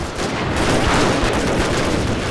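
Cannon and Gatling gun fire in the video game Total War Shogun 2, a dense, loud burst of continuous rattling gunfire and booming shots with no pauses.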